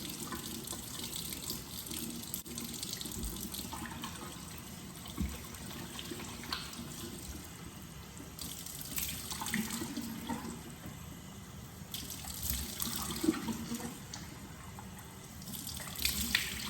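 Tap water runs steadily into a sink while a face freshly treated with laser resurfacing is gently rinsed, a continuous close splashing stream with slight surges and no talking.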